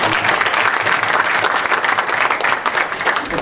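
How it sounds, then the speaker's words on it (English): Sustained applause from a town hall audience in East Palo Alto for a congresswoman, a loud, dense, even roar of many hands clapping at once. "let's give her a round of applause just for that."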